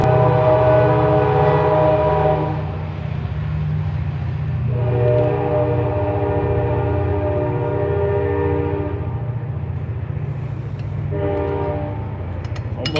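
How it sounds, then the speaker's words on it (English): A train passes close by, its horn sounding loudly in several long blasts with short gaps between them, over a continuous heavy rumble of rail cars. No one speaks. "What was that train I was telling you guys about?"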